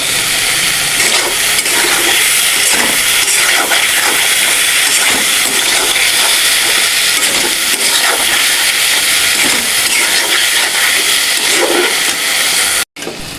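Spice paste with a little sugar sizzles loudly in a pan for a vegetarian soybean curry, a dense continuous hiss of frying with scraping stirs throughout, close and alone, cutting off abruptly near the end.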